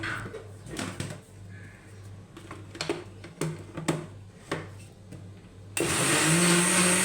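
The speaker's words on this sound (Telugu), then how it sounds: "నానబెట్టిన బాదం పప్పును కూడా మిక్సీ జార్లో వేసుకొని మిక్సీ చేసుకోవాలి." A mixer grinder blends soaked almonds, starting with several sharp clicks and knocks of the jar before the motor roars up loud and steady at the end.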